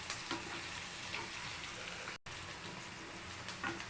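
Potato green masala frying on a low flame, a soft constant sizzle like light rain with faint stirring, quiet and steady, broken by a brief dropout partway through.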